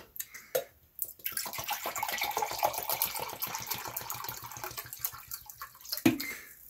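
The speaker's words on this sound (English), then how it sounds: "we want to pour off about 2 cups of our apple cider" Apple cider pours steadily in a continuous gurgling stream for several seconds, with a few small clinks before and after; nearby and fairly quiet.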